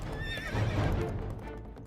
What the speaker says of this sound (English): now takes off on his horse as fast as possible, as far as it will carry him